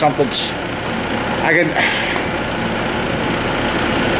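A truck engine rumbles steadily and loudly close by, a dense, continuous roar with a brief clunk partway through.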